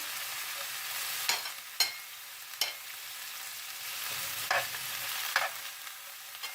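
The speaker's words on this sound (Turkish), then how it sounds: "Şöyle bir yağın içerisinde sağ sol yapıyorum." Chicken fries in hot oil in a pan for tantuni, a steady sizzle broken by sharp scraping strokes of stirring every second or so, close and clear with no talk.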